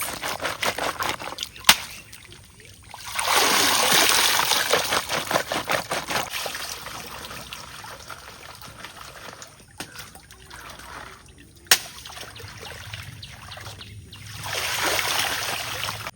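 Water splashes and trickles as catfish and other freshly caught fish are washed in a village kitchen, repeated bursts of sloshing with brief sharp knocks in between, close and fairly loud.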